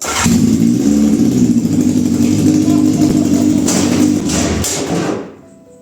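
A small engine on a homemade tubular buggy started with the choke on runs loudly and close for several seconds, then cuts out abruptly.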